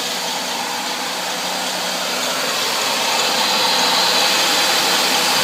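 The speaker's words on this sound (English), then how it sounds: "That squeaky you're hearing is my tensioner idler pulley." A 2003 Ford Taurus engine runs steadily with a squeaky tensioner idler pulley, a continuous mechanical whir and hiss that grows slightly louder toward the end, heard up close without talk.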